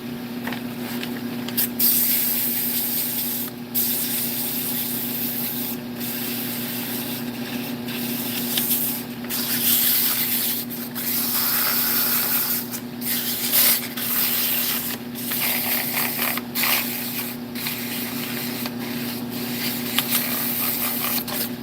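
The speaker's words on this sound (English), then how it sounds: "I should probably do a little bit of sanding." A turned wooden piece is sanded on a running woodturning lathe, producing a continuous abrasive rubbing hiss with brief pauses over a steady motor hum.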